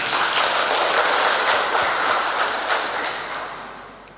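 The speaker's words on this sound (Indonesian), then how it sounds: "Tepuk tangan dulu." Audience applause at a provincial government assessment event in West Papua, a dense sustained burst of many hands clapping that gradually thins and fades toward the end.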